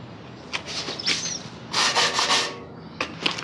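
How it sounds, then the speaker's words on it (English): Close scratchy rubbing of 100-grit sandpaper on epoxy primer on a Honda Transalp fairing and fuel tank, a few short strokes then a longer steady burst, with quiet gaps between. "Now I'll be sanding the epoxy primer with 100 grit,"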